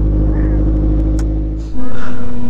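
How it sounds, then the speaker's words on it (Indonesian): A big motorbike's engine rumbles close by and then swells abruptly into a loud rev near the end, with wind noise and brief voices over it. "Suara moge"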